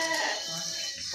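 Sheep bleating at close range, a short wavering cry with no speech alongside; the flock is held on a farm and includes old rams.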